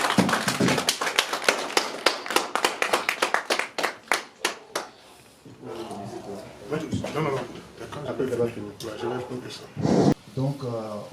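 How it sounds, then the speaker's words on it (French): An audience breaking into clapping and acclamation, a rapid burst of hand claps that fades into cheering voices and crowd talk, close and fairly loud. "Sous une grande acclamation."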